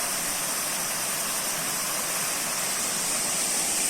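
A mountain river on a hiking trail flows with a steady, broadband rushing wash, constant and fairly close, with no voices over it.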